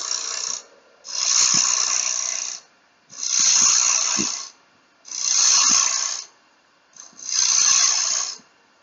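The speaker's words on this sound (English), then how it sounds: "So I will just nibble away with the bowl gouge here." A bowl gouge cuts the edge of spinning wood on a lathe in five evenly spaced passes. Each is a loud, hissing scrape of about a second and a half, with quiet gaps between.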